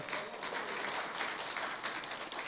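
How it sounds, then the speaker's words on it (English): Applause from the audience at a private sector resilience forum in Dominica, a steady wash of many hands clapping at moderate level for a couple of seconds, with no voices over it. "let's give her a round of applause"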